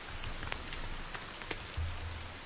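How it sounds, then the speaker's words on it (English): Rain falls steadily in the survival video game The Forest, a dense, even hiss of drops on surfaces with faint patters and a low rumble, no voices over it. "It's raining."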